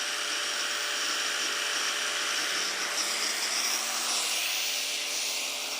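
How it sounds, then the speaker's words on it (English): An angle grinder runs steadily on an Oukitel P2001 2000 W portable power station, a loud continuous high whine with a slight pitch shift midway, close and alone with no talking. "Step number two, angle grinder."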